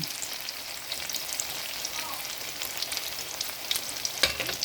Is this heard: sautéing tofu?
yes